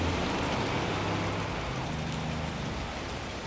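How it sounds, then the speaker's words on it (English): Torrential autumn rain pours down steadily, a dense, loud hiss of water on surfaces with no pauses, filling the whole stretch with constant broadband roar. "Then come the torrential autumn rains."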